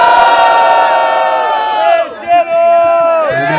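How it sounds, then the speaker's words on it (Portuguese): A crowd at a freestyle rap battle in Rio de Janeiro, at the 2019 state final, cheers and shouts loudly and without break. The roar dips briefly before surging back. "curtiu as rimas do freestyle do meu mano MT, joga a mão pro alto e faz barulho"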